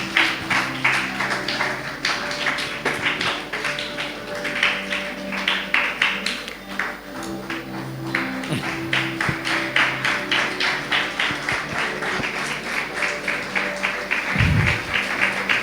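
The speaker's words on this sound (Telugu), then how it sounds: "అన్న వస్తున్నట్టుగా చప్పట్లు కొడదాం" A church congregation at a New Year service claps in sustained applause, many hands patting in a fast, uneven roar over a low hum, with brief murmured voices and a thump near the end.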